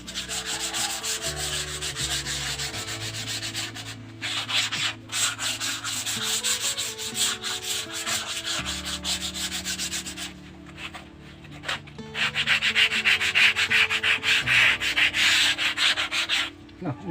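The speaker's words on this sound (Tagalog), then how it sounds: "Number 150 to. Liha, sandpaper." Steady back-and-forth rubbing of 150-grit sandpaper on a plain wooden panel door, loud and close, with brief pauses between runs of strokes and a harsher burst of sanding near the end.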